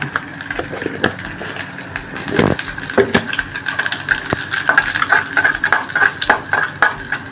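Mustard seeds and curry leaves splutter and crackle in hot oil for a Tamil buttermilk curry, dense irregular pops and sizzles close by with a few stirring clinks against the pan.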